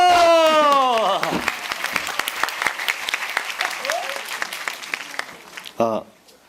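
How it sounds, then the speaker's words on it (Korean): A crowd claps at a Korean history concert, right after a chanted rhythmic call. A sung voice fades at the start, then thick clapping runs for several seconds and tapers before a single voice speaks at the end. "박수"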